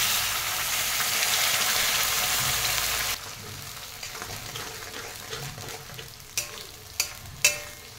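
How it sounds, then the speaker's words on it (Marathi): A strong sizzle of onion frying in a pan fills the first few seconds, then drops to a quieter crackle with a few clinks of stirring. "कांदा 2-3 मिनिट भाजून घेऊया"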